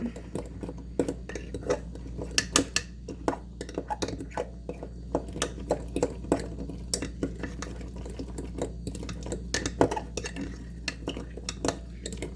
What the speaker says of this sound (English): You'll want to mix it really good too, so you don't accidentally get a poached egg in the middle of your cake